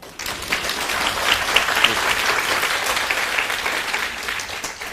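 Sustained audience applause fills a university lecture hall at the close of a political Q&A talk, a dense steady clapping wash lasting several seconds with no voices over it.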